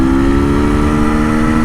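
Steady, smooth idle of a KTM 300 TPI two-stroke motorcycle engine with counterbalancers, a constant close drone with little vibration or pipe bang, heard alone without speech.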